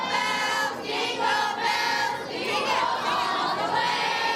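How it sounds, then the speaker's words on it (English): A large crowd of children rushes into a convention center for a Christmas toy giveaway, filling the space with a loud, continuous din of excited shouts and chatter that swells and dips. "a large crowd of children rushing to the Prime Osborne Convention Center, hoping to find that special gift"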